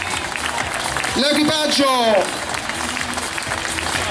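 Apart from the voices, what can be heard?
audience applause at rally award ceremony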